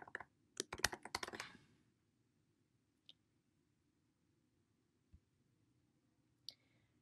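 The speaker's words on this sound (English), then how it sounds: "Go ahead and type in a valid email and a password." Quick bursts of typing on a computer keyboard as an email and password are entered, a cluster of crisp, close clicks at first, then a few isolated key taps spaced apart in a quiet room.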